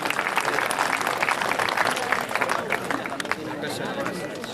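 Audience applause at an alumni meet, a steady, loud wash of clapping from a large crowd that continues throughout with some chatter mixed in.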